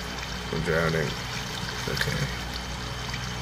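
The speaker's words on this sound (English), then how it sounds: "I will use the water as an elevator." Water rushes and trickles steadily through a Minecraft water elevator in the video game, a continuous wash of flowing water beneath a brief spoken word.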